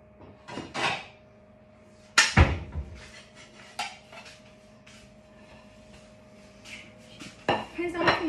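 Plates and cutlery clatter while rice and beef meatballs in bolognese sauce are served onto a plate: scattered clinks and knocks, one sharp loud bang, then softer scrapes and taps in a quiet kitchen.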